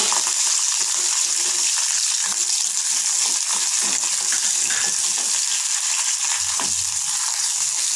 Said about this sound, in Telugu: ఇలా పచ్చిమిర్చి వేగుతున్నప్పుడే బీరకాయ కూడా వేసి వేపుకోవాలి